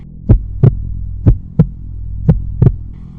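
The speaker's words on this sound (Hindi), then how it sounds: "डर के मारे रोहन की धड़कनें बढ़ गई।" A heartbeat sound effect in a Hindi horror story: three pairs of deep, thudding beats at a steady pace over a low hum, loud and close, with no voices.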